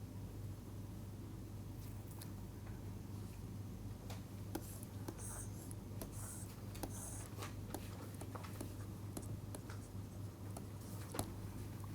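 Pen or pencil scratching on paper while working through a mass-balance calculation for an equilibrium concentration problem: faint, intermittent short strokes and ticks over a steady low electrical hum, no talking.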